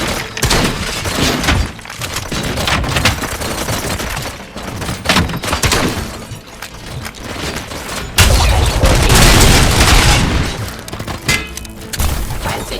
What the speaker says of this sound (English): О, они еще и взрываются